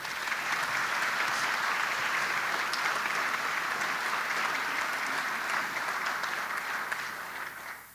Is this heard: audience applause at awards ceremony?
yes